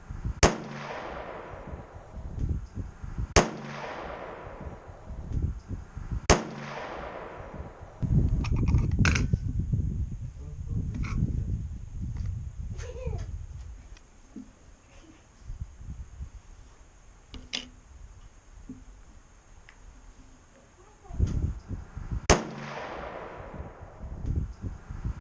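Remington 742 rifle firing .30-06 Core Lokt rounds at a range: sharp, loud single shots spaced several seconds apart with ringing decays, plus rustling and handling noise between them.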